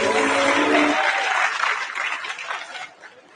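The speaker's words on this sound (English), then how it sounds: "a round of applause for all our young leaders out here" A youth summit audience applauds its young leaders, with dense clapping and a little chuckling at first that thins and fades over a few seconds.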